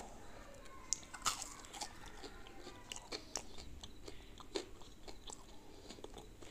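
Crunchy pakora chewed close up, irregular crisp bites and crunches over several seconds with light background noise.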